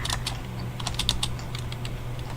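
Computer keyboard keys, the shift key among them, pressed while playing a modded Minecraft game: a quick run of sharp, close clicks at an uneven rhythm over a steady low hum.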